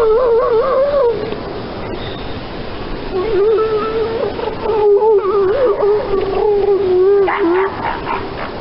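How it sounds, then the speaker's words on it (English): Northern elephant seal mother at Piedras Blancas calling to her pup with a long, wavering, moaning cry that rises and falls for several seconds, close and loud over a steady background of beach noise, followed by a shorter answering call. "my favorite northern elephant seal sound, which is the mother's call to her pup"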